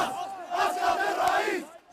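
A huge crowd in Tahrir Square, Cairo, cheers and shouts in celebration, a dense roar of many voices sustained throughout and easing slightly at the very end.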